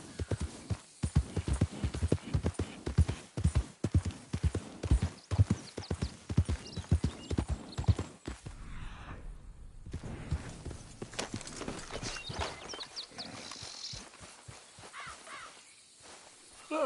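Horse hooves clip-clop in a steady, brisk rhythm in Red Dead Redemption 2, close and prominent, then slow to softer, scattered steps with a brief whinny-like sound in between.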